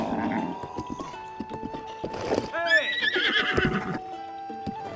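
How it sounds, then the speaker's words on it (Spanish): A horse neighs loudly with a whinnying call in Zelda: Breath of the Wild, alongside clip-clop hoofbeats and game tones, with a voice briefly present. "mira qué guapo el caballo que tengo"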